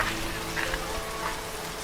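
Heavy evening storm rain in a cartoon, a dense, steady hiss of downpour that fills the scene at an even loudness, with no voices.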